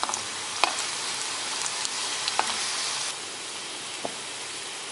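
Dried red chillies and curry leaves fry in hot oil with a steady, close sizzle and hiss, broken by a few sharp crackles and pops, and no talk.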